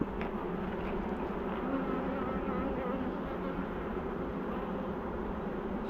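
A dense, continuous buzzing of many honey bees at an open double brood hive being split, loud and close, with no pauses and no voices.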